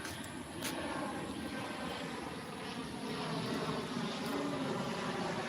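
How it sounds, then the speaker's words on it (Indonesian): Steady broad roar of an airplane flying over near an airport, heard outdoors during a morning walk, sustained and fairly loud throughout with no talk. "Ada pesawat lagi. Di sini banyak pesawat ya, guys. Karena di sini dekat bandara."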